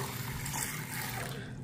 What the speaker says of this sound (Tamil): தண்ணி ஊற்றிக்கிடுவோம்